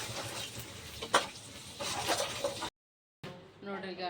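Rice being stirred and fried in a pan, with a soft sizzle and scraping of a spoon against the pan, a brief gap, then more stirring while a person talks.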